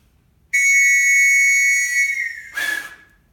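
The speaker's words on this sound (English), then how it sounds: "Whistle." A loud, sustained high-pitched whistle blast lasting a couple of seconds, sliding slightly down in pitch before a breathy burst cuts it off.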